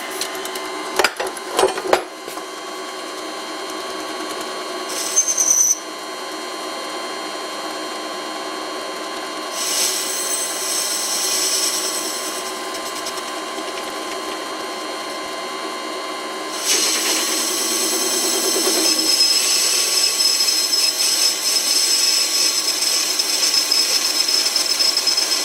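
An old wood lathe spins at about 500 RPM while turning metal, giving a continuous whirring, scraping drone with sharp clicks early on and brighter grinding bursts that swell louder toward the end.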